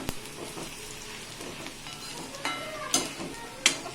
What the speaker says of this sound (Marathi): आता हाही आपण जवळा छान तेलामध्ये मस्त फ्राय करून घेऊया